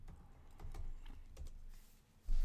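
Typing on a computer keyboard: a short burst of light, close keystroke taps at an uneven pace over a low room hum, ending in a louder thump.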